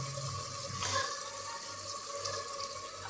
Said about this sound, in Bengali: এখন আমি এটার মধ্যে দিব আমি যে ভিজিয়ে রেখেছিলাম ডালটা